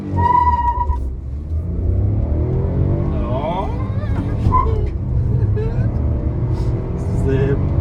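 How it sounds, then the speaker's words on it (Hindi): A Maruti Brezza Boosterjet car accelerates from 0 to 100, its engine rumbling and building under continuous talking from inside the cabin. "जब मैंने 0 to 100 करने की कोशिश की तो वो भी देख लो"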